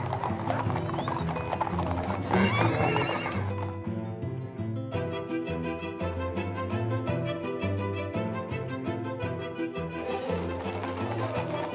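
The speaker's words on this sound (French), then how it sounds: "j'assiste à la bénédiction des chevaux à Berlétan." During a blessing of the horses in a Provence village, hooves clip-clop rhythmically and horses neigh, blended with loud accompanying music throughout.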